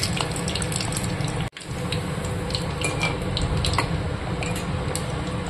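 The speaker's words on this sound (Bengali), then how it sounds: "ভাজা হচ্ছে" Litti frying in hot oil: a steady, close sizzle and bubbling with dense crackling that carries on throughout, broken by one brief dropout.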